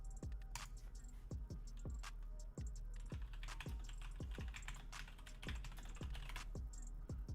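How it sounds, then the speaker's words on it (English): Someone types on a computer keyboard, the keystrokes close and crisp, coming in a steady run of evenly spaced clicks. "That felt really good typing that."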